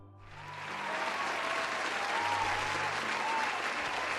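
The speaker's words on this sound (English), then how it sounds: "a big round of applause" A round of applause for a homebrew presenter during a live tabletop game stream swells quickly and holds as steady, dense clapping, fairly soft and uniform throughout.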